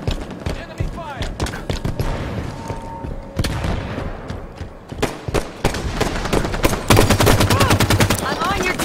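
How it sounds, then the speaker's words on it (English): Dense in-game gunfire from Halo 5: Guardians online multiplayer, loud rapid bursts and single shots layered over one another throughout, with a player's voice talking over the shooting. "Enemy fire!"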